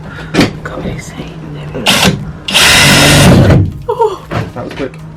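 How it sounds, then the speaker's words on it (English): A pilot drill bores through the roof of a Mercedes Sprinter van during a roof fan install, giving a loud, steady whine of about a second, with shorter bursts and talk around it. "First we are going to go through 4 corners with a pilot drill."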